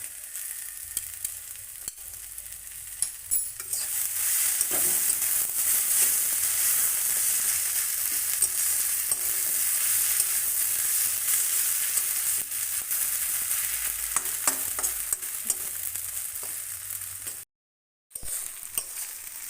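Ghee sizzles steadily in a pan as fenugreek greens fry, a bright continuous hiss with faint stirring clicks and scrapes, broken by a brief silent gap near the end.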